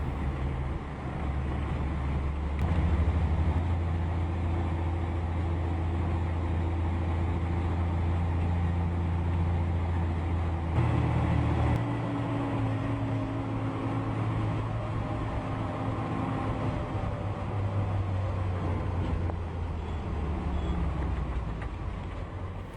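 A WC51 Dodge military truck drones along a road with a low, steady engine rumble heard from inside, the pitch stepping up and down with gear changes amid constant wind and road noise.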